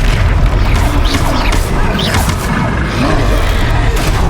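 A Descendo spell impact in the Hogwarts Legacy video game lands as a loud, dense booming crash amid continuous battle noise and scattered swooshing effects over about four seconds.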